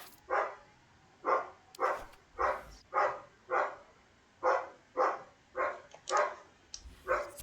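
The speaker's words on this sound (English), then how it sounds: "So, if you hear dogs in the background" Dogs bark in the background during FIFA 21 career mode gameplay, about a dozen evenly spaced single barks repeating at a steady pace, moderately distant and with no talk over them.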